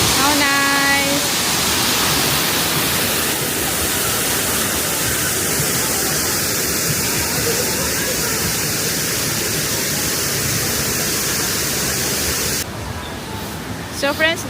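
Diwaran Falls in Laguna, Philippines, roars as a loud, steady rush of falling water that fills the whole span without pause, and a brief voice cuts in near the end.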